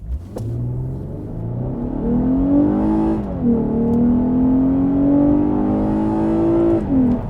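A 2020 Lexus IS350 F Sport pulls hard at full throttle in automatic without launch control, its engine note climbing loud and steady through long gears with a brief dip at a shift near the middle.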